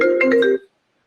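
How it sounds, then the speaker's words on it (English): A mobile phone ringtone chimes in a short, clear electronic melody of a few rising notes, ringing alone for about half a second during a board of education meeting before it cuts off. "If you heard that, that was my phone."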